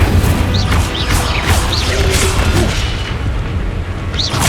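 An Incendio fire spell bursts during combat in Hogwarts Legacy, a loud, sustained rumbling boom with crackling blasts and a few sharp whooshes throughout.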